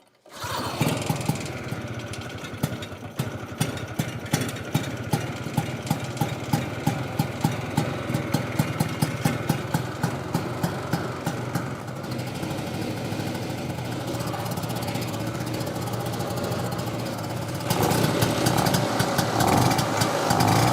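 A Ski-Doo Elan 250 snowmobile's small engine runs after a cold start on full choke, with a rapid, uneven putter close by that steadies and then swells louder near the end, with no one speaking over it.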